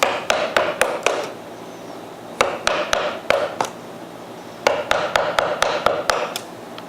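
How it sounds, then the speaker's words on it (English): A chisel struck in bursts of sharp wooden taps cuts a mortise in wood, each group of blows followed by a short pause. "Now I've turned the chisel around, the bevel is facing me, and I'm going to come in like this and work in this direction here."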